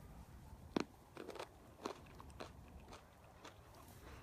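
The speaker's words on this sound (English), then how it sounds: "But listen to the crunch." Someone bites into a raw lemon cucumber with a sharp close crunch, then keeps chewing in a quiet, uneven string of softer crunches and wet smacks, with no talking.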